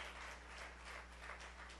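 A church congregation gives a soft, steady round of applause at a service, the clapping faint and distant over a low hum.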